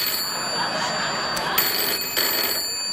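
A telephone ringing on a late-night talk show set, a faint electronic trill repeating a few times over low background noise.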